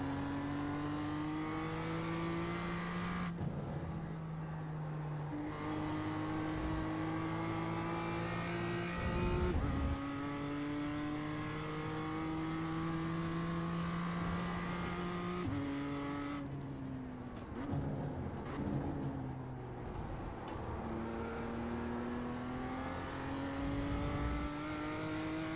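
A BMW M2 race car in iRacing at Okayama runs a solo lap, its engine loud and close, climbing in pitch through each gear and dropping sharply on upshifts and braking, with occasional tire noise and no voices.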